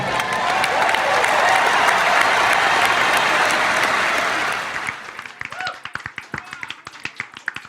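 Clapping from a small group at a live stream, loud dense applause for about five seconds that thins into a few scattered, sharp individual claps near the end.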